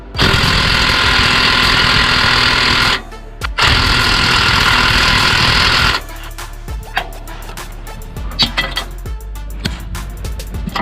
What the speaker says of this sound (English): And then I have this Avid Power 20 volt and it just will not do it.